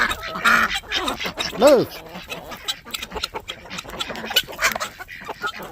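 Ducks in a chicken coop being readied for cold weather give a few harsh, rising calls up close, mixed with clucking fowl, rustling and footsteps, while someone talks over them.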